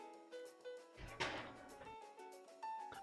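An oven door closing with a heavy thunk after a dish goes back inside, one loud clunk amid quieter kitchen clatter.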